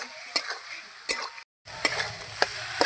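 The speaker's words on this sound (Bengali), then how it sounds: "ভালো করে আলুর সঙ্গে এই মশলাগুলো কষিয়ে নেব।" Spices and potatoes sauté in a pan with a continuous sizzle, punctuated by a few sharp scraping clinks of the stirring spoon and a brief moment of silence partway through.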